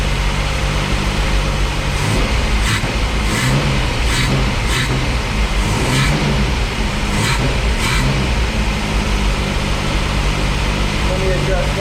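A car engine idling high and steady, a constant close hum with a few faint clicks over it, and someone speaking partway through.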